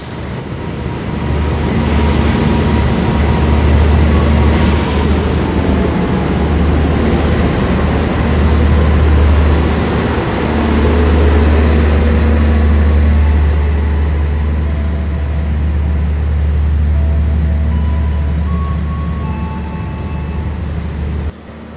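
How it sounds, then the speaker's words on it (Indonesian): The Taksaka train from Yogyakarta pulls into Kutoarjo station, a loud, sustained deep rumble of heavy rolling stock with swelling and easing engine drone and faint squeals, no voices. "Baru saja tiba kereta Taksaka dari Yogyakarta"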